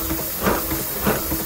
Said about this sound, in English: We're also raising steam at the moment in this other Merryweather.